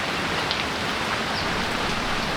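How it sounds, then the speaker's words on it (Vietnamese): Heavy rain pours down steadily, a dense, even hiss of drops drumming on surfaces with no pauses or voices. "Trời đổ mưa nhanh thật đấy."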